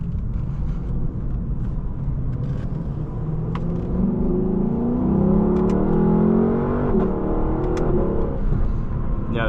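2018 Lexus LC 500 engine heard from inside the car on a drive, a steady low rumble that swells into a rising, revving tone as it accelerates, with faint road whir underneath.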